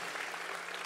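Church congregation applauding, a dense, steady patter of many hands clapping at once, sustained and fairly loud throughout the short moment.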